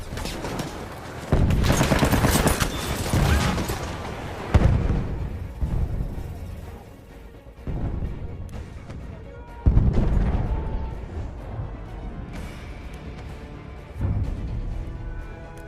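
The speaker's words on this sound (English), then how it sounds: "Mitrailleuse ennemie en vue." Battlefield 1 combat rages with dense, loud bursts of gunfire and heavy booms arriving in waves, including rapid machine-gun fire, over a constant din of battle.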